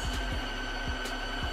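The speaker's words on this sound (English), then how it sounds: "Now, it's doing a brush cleaning" A Tosima H1 smart mop and vacuum combo runs its self-cleaning brush cycle, giving off a steady mechanical hum with a rhythmic throbbing pulse. The sound is close and continuous, and no one speaks.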